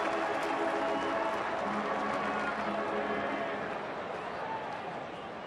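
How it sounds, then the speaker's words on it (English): Baseball fans along the third base side at a Milwaukee at Chicago game applauding a player returning to the dugout, a broad wash of distant crowd clapping that slowly fades. "Nice round of applause from the fans on the third base side of the field"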